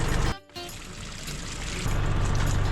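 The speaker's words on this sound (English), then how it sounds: "Drain the water." Water pours steadily out of the drained cooling system of a Jeepster in a workshop, a loud continuous gushing that briefly stops, then resumes and grows heavier.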